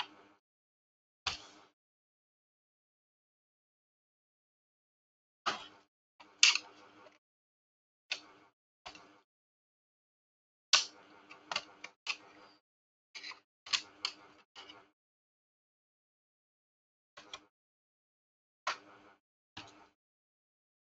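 Screws being removed from a Dell Latitude E5450 laptop: short, faint clicks and squeaky turning sounds come in scattered bursts, with long quiet gaps between them, close up.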